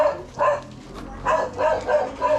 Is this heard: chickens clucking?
no